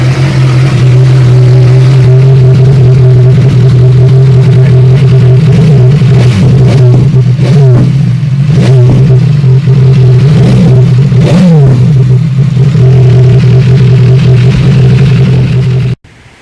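A BMW S1000XR motorcycle engine runs steadily and loud throughout, with several sharp revs rising and falling over a constant idle drone, close to the bike and with no talking.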